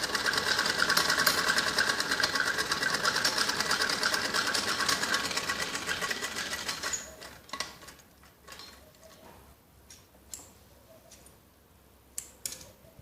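A sewing machine runs in a fast, steady whir of rapid stitching on a strip for a kids' skirt, then stops after about seven seconds, leaving scattered soft clicks and handling noises.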